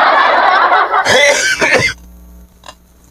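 A person coughs and clears their throat close to the microphone, a couple of harsh bursts near the start followed by one quieter throat sound, then near silence.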